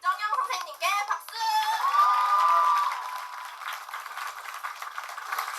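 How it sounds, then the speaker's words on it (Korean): A school theatre audience claps and cheers for the backstage crew, shouting and whooping first, then a sustained wash of applause that fades but keeps going. Young voices shout at the start. "위에서 고생한 스태프들에게 박수!"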